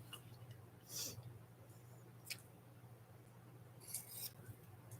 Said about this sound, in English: I'm pinking the edges to try to keep them from completely fraying off.